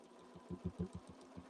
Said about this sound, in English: now I'm going to stitch back down this side as well